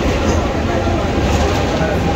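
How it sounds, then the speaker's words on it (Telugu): MEMU passenger train at Tenali station platform 4, running between Gudur and Vijayawada, heard as a continuous dense rumble and rattle throughout with voices mixed in. "సో తెనాలి ప్లాట్ఫామ్ నెంబర్ 4లో అయితే ట్రైన్ వచ్చిందనమాట."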